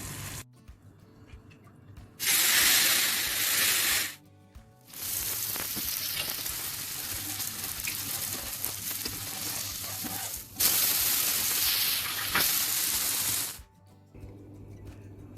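Bottle gourd, garlic and tomato cook in a pan for chutney, giving a loud, steady sizzle that swells into bright hissing bursts, drops off briefly, then returns before fading near the end.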